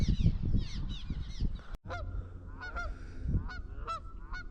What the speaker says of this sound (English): These geese are going berserk over here.